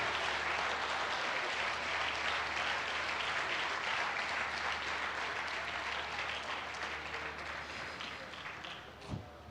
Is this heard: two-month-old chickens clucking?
no